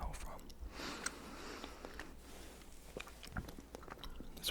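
XL Shaq gummy candy being chewed close up, soft wet squishing and sticky bites in an irregular rhythm, faint and intimate with no talking.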